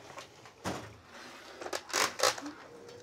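A metal auto-shop toolbox drawer slides and clunks in a few quick bursts, close and moderately loud, ending with a sharper rattle as it moves.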